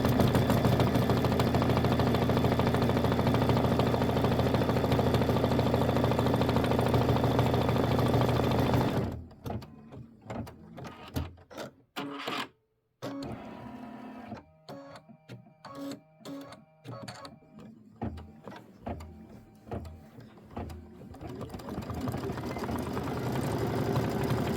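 A Kimberbell Hello Sunshine bicycle block being stitched on an embroidery machine: a steady, loud mechanical hum of rapid needle strokes, then stopping and restarting in short broken bursts before the even whirr builds up again.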